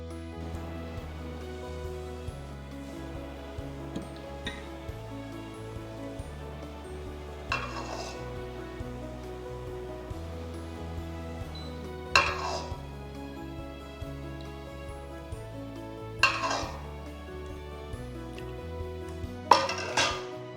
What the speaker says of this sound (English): now we'll go ahead and plate it up